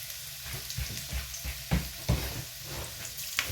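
Garlic and ginger frying in a pan, a steady close sizzle with several soft clattering stirs and taps of a utensil against the pan.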